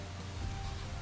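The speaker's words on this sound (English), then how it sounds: "Sorry it's raining." Steady rain falls in the Minecraft video game. It makes a continuous, even hiss with a low rumble underneath and no talk, lasting about a second.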